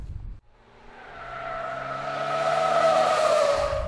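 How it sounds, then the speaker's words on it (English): A car on a wet, water-covered tire test track builds speed through a curve until its tires hydroplane and it runs straight, a rising engine roar with tire hiss growing louder and steady over several seconds. "eventually the tires hydroplane and the car goes straight"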